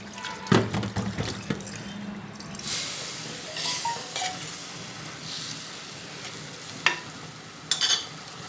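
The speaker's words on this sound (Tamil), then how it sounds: "இப்போ நான் கொஞ்சம் இதெல்லாம் கழுவி வைக்கணும்." Kitchen utensils being washed under a running tap during cooking preparations, with a steady stream of water, scattered clinks and knocks of utensils, and a faint sizzle of frying nearby; no one talks.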